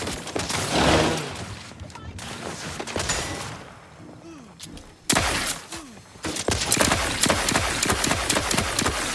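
Gunfire erupts during combat in The Outer Worlds 2, bursts of shots, a quieter stretch, then a sudden loud return of rapid firing with thuds; a voice speaks briefly in between.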